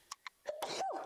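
A sneeze bursts out during commentary on an APA 9-ball pool match, preceded by two short sharp intake sounds and ending in a drawn-out, moderately loud breathy release.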